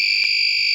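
A buzzer driven by an NE555 timer in a conductive pen drawing circuit sounds a steady, piercing electronic tone with bright harmonics, holding unbroken and fairly loud throughout.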